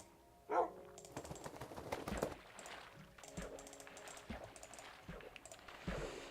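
Dogs in a Minecraft-style video game give a short bark near the start, then quieter yips, under steady computer keyboard typing and clicks, faint overall.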